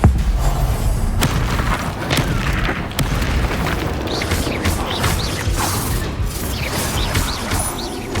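A Bombardo blasting spell explodes in the Hogwarts Legacy video game amid a battle, heavy booms and crashing debris over dense mechanical clatter and thuds in a continuous loud mix.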